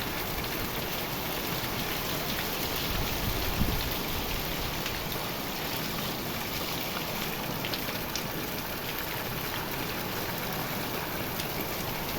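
Steady summer rain patters on a surface, a dense, even hiss with scattered drops, continuous throughout with no voices.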